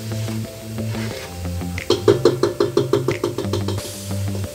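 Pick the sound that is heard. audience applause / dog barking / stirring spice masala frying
stirring spice masala frying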